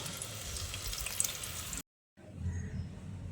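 Onion, ginger, garlic and green chili paste frying in a mix of ghee and oil, a steady close-up crackling sizzle with a short silent break midway before it resumes.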